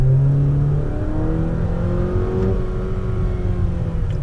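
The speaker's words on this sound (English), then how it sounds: "No, this car sounds like a weed whacker." Jeep Renegade small SUV engine revving up close, a loud buzzy whine with rising and falling harmonic tones, steady and continuous like a string trimmer, with no talking.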